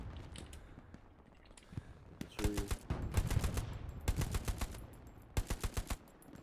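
Machine gun fire in the Hell Let Loose video game during a Stalingrad defense battle: repeated rapid bursts of automatic shots, some in long chains and others in short, tight volleys. Quieter battlefield rumble runs between the bursts.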